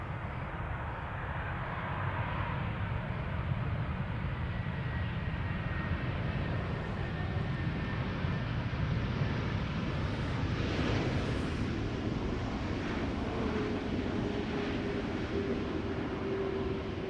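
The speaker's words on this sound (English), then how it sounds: "This is Icelandair flight 500 arriving from Reykjavik, MAX 8737." An Icelandair Boeing 737 MAX 8, about five years old, arriving from Reykjavik, gives a steady, distant jet roar held at an even level throughout, with a faint thin whine rising near the end.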